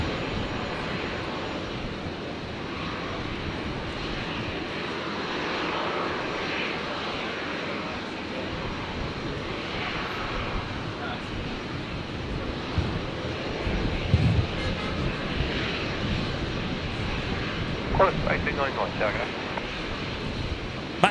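A Qantas 737 jet bound for Sydney beginning its takeoff roll on runway 01 right at Brisbane airport, a steady broadband engine roar that holds for the whole stretch and swells slightly near the end.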